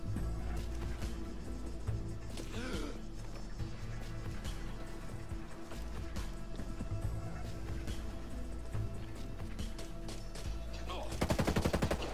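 Gunfire in the tactical shooter Ghost Recon Breakpoint during a tower mission, a dense continuous barrage of shots layered over steady game ambience, with a louder burst near the end.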